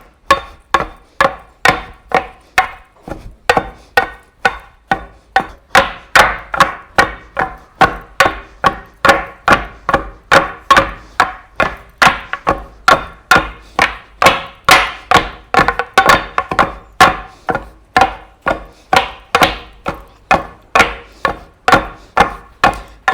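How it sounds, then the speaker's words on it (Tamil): A pestle pounding sesame seeds for sesame sweet, striking steadily with heavy, dull thuds at about two per second, close and loud, continuing alone for over twenty seconds with no talk. "கிட்டத்தட்ட கைவிடாமல் 15 நிமிஷம் தொடர்ந்து இடிக்கணும்."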